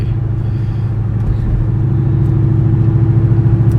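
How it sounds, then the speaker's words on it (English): A loud, steady engine drone at cruising RPM, close and continuous with a deep rumbling hum that swells slightly toward the end, and no voices. "the RXT is very loud at that that RPM"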